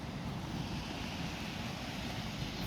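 Water flows downstream in a steady, broad rushing wash outdoors, constant and fairly even throughout, with some wind buffeting mixed in.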